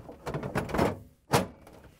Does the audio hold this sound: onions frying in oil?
no